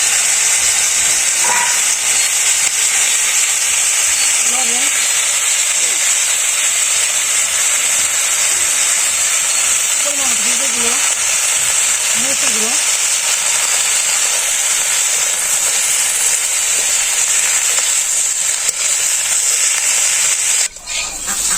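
Okra frying in hot oil with cumin gives a constant loud, bright hiss that continues without a break for the whole stretch, close by, with only faint soft bumps of movement and no clear speech.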